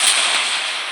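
A firework explosion in a fireworks video game, heard as a single loud, close burst of hissing, crackling noise that fades slightly over about a second.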